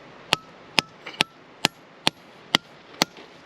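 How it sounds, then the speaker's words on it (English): Seven sharp, evenly spaced hammer strikes on rock while digging for star sapphires, each a crisp loud crack against a quiet outdoor background, with one smaller knock between the second and third blows. "We have to teach you how to swing a hammer, aren't we?"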